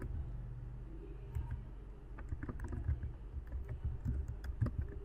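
Rapid, light clicking of keys on a computer keyboard as text is typed, a continuous patter of taps over a low room hum.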